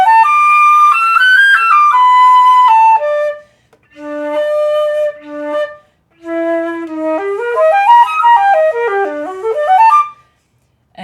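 A solo flute plays clear melodic runs that climb and fall across its whole range, using a forward lip technique, in three phrases separated by short silences, close and clean.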